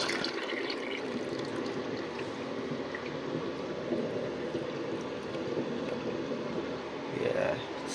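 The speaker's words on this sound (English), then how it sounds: "here's a paper towel flush" A miniature 1994 Kohler Highcliff toilet flushing a paper towel, a steady close gurgling rush of water that swells slightly near the end.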